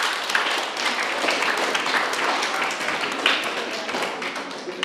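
A school audience claps steadily, a dense, even wash of hand claps that holds for several seconds at a moderate distance, with faint voices underneath.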